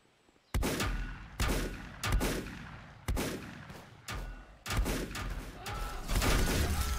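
Loud bursts of gunfire in the volcano-mining game Volcanoids, several heavy salvos booming out one after another with short gaps, each blast ringing and rumbling before the next, with no talk.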